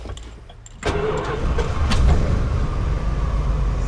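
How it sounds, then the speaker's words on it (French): A 1984 Dodge Family Wagon Prospector van cranks briefly and fires up at once, its engine jumping from a quiet background to a steady rumbling idle. "Petit essai de démarrage."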